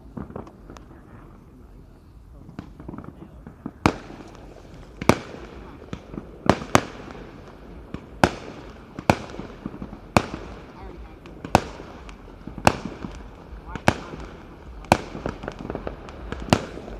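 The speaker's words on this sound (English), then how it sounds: "Recording other people's fireworks, man." Fireworks burst outside one after another in sharp, loud cracks and pops, spaced about a second apart over a low background rumble, after a quieter opening stretch.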